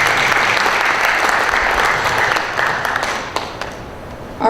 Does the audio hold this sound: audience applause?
yes